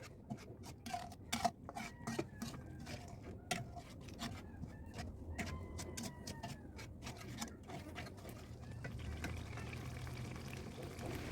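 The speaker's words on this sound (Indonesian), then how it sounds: "setelah airnya menyusut, ini baru ditambahkan minyaknya ya" Cooking oil being added to a simmering chili spice paste for sweet spicy peanuts, a quiet bubbling and crackling sizzle with scattered pops, close and low, growing slightly denser toward the end.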